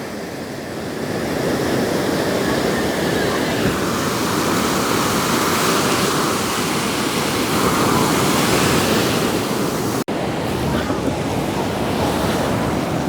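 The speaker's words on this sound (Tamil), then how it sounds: "பாருங்க எப்படி அலையை அடிக்குதுன்னு பார்த்தீங்களா?" Sea waves crash continuously on the shore beside a coastal fishing village in Jaffna, a loud, steady surf roar that fills the whole stretch with no voices over it.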